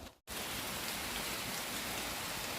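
Steady, heavy rain falls outdoors, a dense continuous hiss that begins abruptly after a brief gap and continues evenly without voices.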